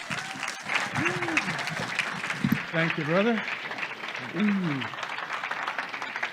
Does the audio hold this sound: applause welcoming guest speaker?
yes